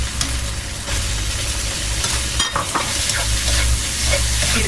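Tomato being stir-fried with pieces of egg omelet in a hot pan, a loud steady sizzle with scraping and stirring scrapes throughout.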